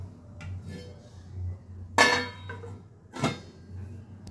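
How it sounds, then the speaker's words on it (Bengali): A plate set down over a cooking pot of Bengali sweet pulao with green chillies in a home kitchen, giving two sharp ceramic-on-metal clinks about a second apart, close and moderately loud over a low steady hum. "এবার এটা একটা প্লেট দিয়ে ঢেকে দেব।"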